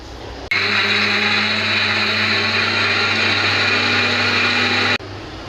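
An electric mixer grinder blends tomatoes and green chillies, whirring loudly and steadily for about four seconds before cutting off abruptly.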